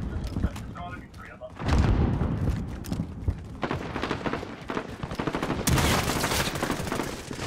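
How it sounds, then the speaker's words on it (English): Gunfire in Call of Duty Warzone: dense bursts of automatic fire and shots, close and loud, mixed with players talking. "I'm getting shot at."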